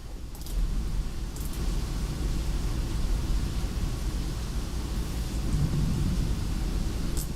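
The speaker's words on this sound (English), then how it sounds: "Can you guys hear the rain right now?" Steady rain hisses outdoors, with low rumbling thunder rolling underneath as a broad, continuous wash of noise with no voices.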